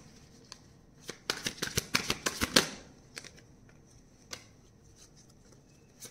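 Tarot cards shuffled by hand in a quick run of crisp riffling snaps, followed by a few softer isolated flicks and taps as cards are drawn, close and quiet.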